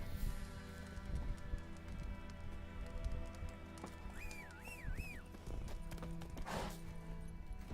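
Hooves clip-clop from a horse in The Witcher 3, a steady trotting rhythm up close, joined midway by a short neighing whinny and some rain-like patter.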